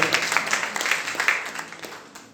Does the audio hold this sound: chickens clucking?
no